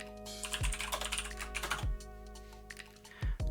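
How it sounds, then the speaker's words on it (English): Loud, rapid typing on a computer keyboard clatters in irregular bursts of keystrokes, close to the microphone, with occasional heavier thumps as keys are struck hard. "The loud typing."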